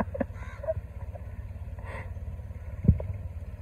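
A tractor engine rumbles low and steady while reversing on a farm, with a single short knock near the end.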